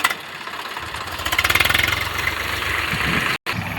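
A Swaraj tractor's engine runs close by with a throbbing, rhythmic knock that grows louder then settles into a steady rumble, briefly cut out near the end.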